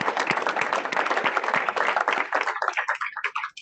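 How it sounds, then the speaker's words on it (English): Audience applause at a university entrepreneurship program's final presentations, a dense burst of many hands clapping that thins out into scattered claps toward the end. "Why don't we give them one last round of applause?"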